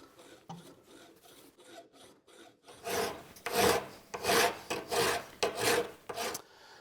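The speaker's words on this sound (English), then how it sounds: "then clean things up with a file" A hand file rasps back and forth over a freshly hacksawed cut in a shop project, steady rhythmic strokes growing louder after a few lighter passes, close and alone.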